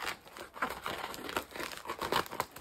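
An Ipsy plastic mailer bag being cut open, quiet close crinkling and rustling of the packaging in short irregular bursts, with no voices.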